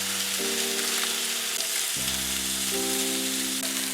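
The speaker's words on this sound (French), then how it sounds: "J'y dépose les brochettes. Je laisse cuire chaque côté pendant 5 minutes." Chicken yakitori skewers sizzle and fry steadily in a hot oiled pan over high heat, a dense close crackle that carries on throughout with no voices.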